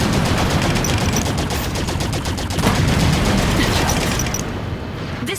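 Video game gunfire in Halo 5: Guardians: loud, sustained rapid automatic shots in tight repeating bursts, with heavier booming impacts mixed in, fading slightly near the end.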